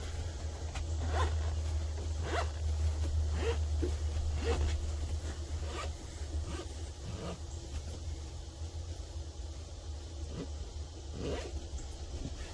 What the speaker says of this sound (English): Now if I could just get this zipper closed without busting the zipper.